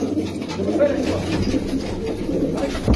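Fancy domestic pigeons cooing steadily in a loft, a continuous low murmur of overlapping coos from several birds nearby, with a voice faintly in the background.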